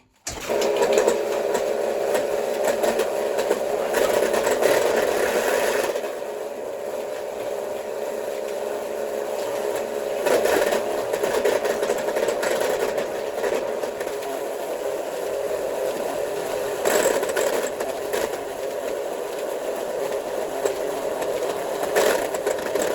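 A wire winder pulls and tightens wire onto a spool, a continuous mechanical whirring hum that holds steady for over twenty seconds with slight surges, close by and without voices.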